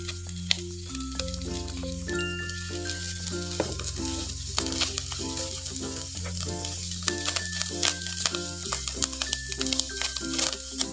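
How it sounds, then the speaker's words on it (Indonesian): Sliced spring onion and celery sautéing in a pan, a steady soft sizzle with stirring running throughout beneath prominent background music. "Kita aduk lagi sampai layu, ini daun bawang dan daun seledrinya"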